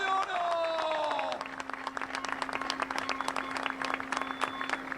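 Crowd applauding a gold-medal mountain bike rider at the Pan American MTB championship in Catamarca, scattered claps and cheers under a sustained tone and an announcer's voice, the clapping growing denser after the first second.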